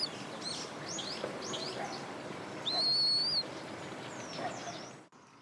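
Oriental turtle dove chicks calling at a nest in spring on a wooded hillside, with a mix of high chirps and whistled calls, one clear rising-falling whistle in the middle, amid steady outdoor background noise.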